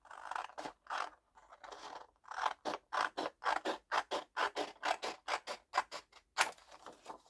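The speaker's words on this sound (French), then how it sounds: "Je trace et je coupe." Scissors cut paper for a handmade sea-themed album in a long run of crisp, rhythmic snips. The blades open and close about twenty times, close and fairly quiet, with a few short pauses.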